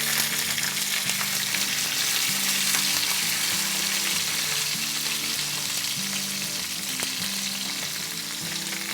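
Chopped jalapeños hit hot oil with mustard seeds and sizzle loudly and continuously, a dense close crackle that holds steady throughout, with no talking.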